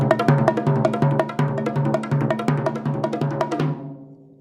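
Fast bridge passage of a Korean-drum-inspired piece, with rapid repeated strikes in a driving fastest beat pattern, dense, loud and close, ending in a ringing decay with no voices.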